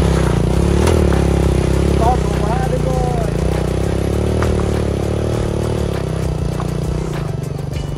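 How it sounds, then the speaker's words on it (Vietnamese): Two motorbikes labouring along a muddy forest track at night in Hà Tĩnh, Vietnam, with a steady mid-pitched engine drone throughout, clattering and scraping over the rough ground, close and loud. "Bốn anh em đi hai xe máy và vật lộn với cái cung đường trong trời tối"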